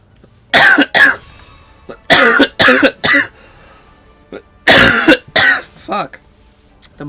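A person coughs hard and close in several harsh bursts, mostly in pairs and triplets separated by short silences, with a gaming session in the background.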